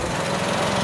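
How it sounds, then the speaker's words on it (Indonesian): A car engine runs at idle with its air-conditioning compressor switched on, checked during a used-car inspection. It makes a steady, close, even drone with a faint rattle throughout, and no one speaks. "Kita dengerin waktu kompresor AC hidup."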